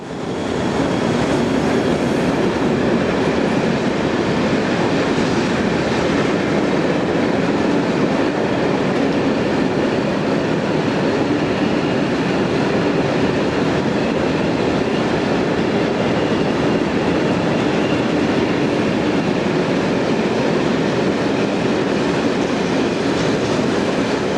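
Two ÖBB class 1142 electric locomotives run through Kledering rail yard on the outskirts of Vienna. They make a loud, continuous rumble with steady wheel and rail noise throughout, and no voices are heard.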